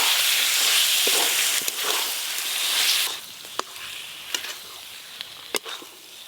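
Spice-coated prawns frying in a hot pan, starting as a loud, dense sizzle that drops off after a few seconds into quieter crackling, with scattered sharp pops and clicks of stirring.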